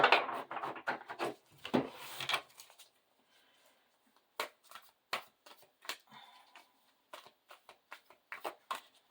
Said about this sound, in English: There's so many of them. It's so hard to shuffle.